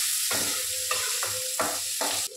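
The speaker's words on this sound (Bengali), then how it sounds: "পেঁয়াজ কুচিটা দিয়ে দেবো।" Chopped onion fries in hot oil with garlic, a steady close sizzle broken by several rhythmic scrapes of a spoon stirring the pan, with no voices.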